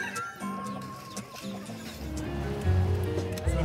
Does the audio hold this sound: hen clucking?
yes